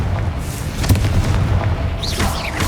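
A blasting curse explosion in Hogwarts Legacy: one deep booming blast followed by a rumbling tail and a brief whooshing magical swirl near the end.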